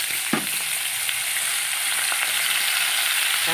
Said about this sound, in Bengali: এবার এটার মধ্যে একটুখানি জল দিয়ে দেবো